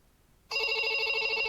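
Telephone ringtone starts abruptly and rings steadily in a bright, continuous electronic tone, alone with no talking.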